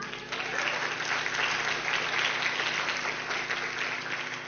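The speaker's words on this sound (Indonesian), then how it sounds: "Kalau begitu amin kuatnya bolehlah tepuk tangan" Congregation clapping during a church sermon, a full, even burst of applause from a sizable crowd sustained for several seconds in a reverberant hall.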